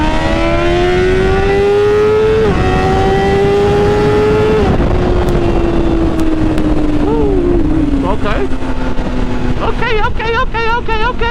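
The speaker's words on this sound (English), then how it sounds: "Get a second gear hit right here." BMW S1000RR sport motorcycle, reported as broken again, revving hard through second gear with rising engine pitch, a shift drop near two and a half seconds, then further pulls and loud wavering revs, close and continuous.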